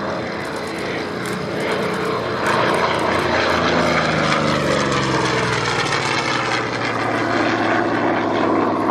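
American single-seat propeller fighter plane passing at an air show, a loud droning piston engine and propeller roar that swells and holds steady, with a shifting pitch as it flies by.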